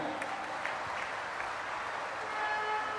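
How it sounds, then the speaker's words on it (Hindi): An audience at a mass wedding ceremony claps in a dense, steady wash of applause that carries on without a break. "आपकी तालियां बजनी चाहिए"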